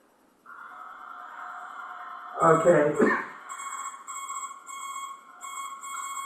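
A ham radio Morse code display gives off steady electronic tones that sound in short, regular bursts, with a brief clatter of handling noise in the middle and a quiet indoor meeting-room backdrop.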